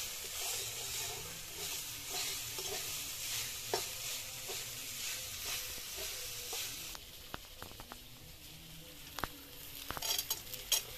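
Nuts fry in ghee in a pan for chira pulao while a spoon stirs them, with a continuous soft sizzle and hiss and scattered scraping clinks of the spoon against the pan.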